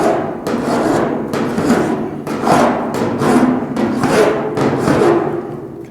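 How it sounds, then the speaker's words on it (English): Hand file rasping soft body lead on the sail panel of a GTO restomod, in steady, close, rhythmic strokes of about ten passes with no talking. "then we're going to start filing here"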